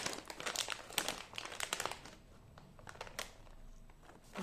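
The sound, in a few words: crinkling plastic packaging being opened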